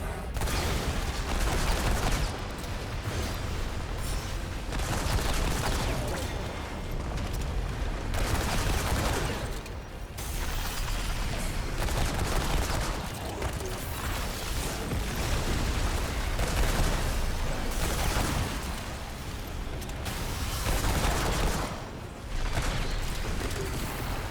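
Sidearm gunfire in the video game Remnant 2, rapid loud bursts of shots in quick succession, with brief pauses between volleys and weapon mechanism clicks.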